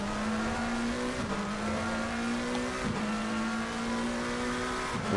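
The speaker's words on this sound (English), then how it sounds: "We'll ride on board with him as we come through La Source, which is this right-hander here, down through the gears" A GT3 race car in Assetto Corsa Competizione at Spa-Francorchamps, driven hard through the La Source right-hander. The engine drones steadily at close range, with quick blips and dips in pitch as the car drops down through the gears.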